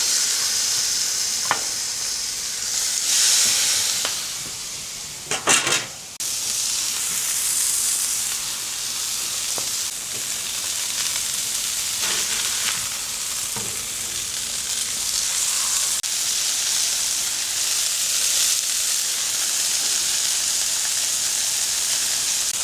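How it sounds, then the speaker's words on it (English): Thick beef burgers searing on a Traeger pellet grill give a loud, steady sizzle that lasts throughout, with brief clanks and scrapes from handling and no voices. "And let's sear the big fellas."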